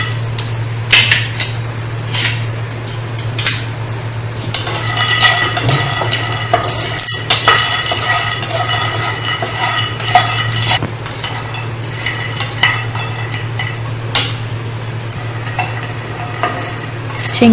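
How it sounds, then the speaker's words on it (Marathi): Peanuts being dry-roasted in a pan while a spatula stirs them, producing irregular metallic clinks and scrapes over a constant low burner hum that runs the whole time. "परत पॅन ठेवून घेऊ आणि त्यामध्ये शेंगदाणे भाजून घ्यायचे।"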